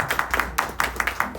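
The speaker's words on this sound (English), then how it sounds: "a round of applause for Tom" A small group at a community alliance meeting claps for a speaker, a brief burst of distinct, close hand claps in an uneven rhythm lasting about a second and a half.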